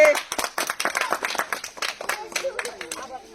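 Hands clap in quick uneven bursts for a child who has won chips and chocolate at a spinning-wheel prize game, close and fairly loud for a few seconds with voices mixed in.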